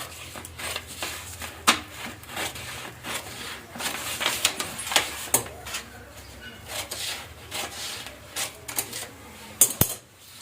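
Blouse fabric being cut along a cross strip, with repeated crisp snips and scrapes of scissors against a hard surface at close range, irregular in rhythm, with no talking.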